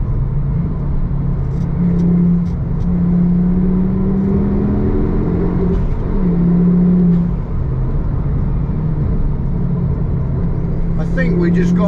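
A Ford Focus ST3 drives through a winding road section, its engine droning and rising in steady pitch as the car pulls, with road rumble underneath and a few faint clicks.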